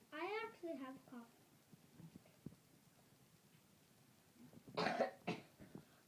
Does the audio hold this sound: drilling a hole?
no